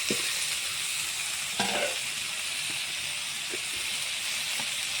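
Green chilies fry in oil in a pan with a steady, soft sizzling hiss, broken by a few brief scrapes and knocks from stirring, fairly quiet and close, with no talking.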